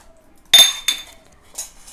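Dry fruits (raisins, cashew pieces, almonds and pistachios) tipped into a pot of Gujarati kadhi: two sharp, close metallic clinks in quick succession, then a softer clink after a short pause.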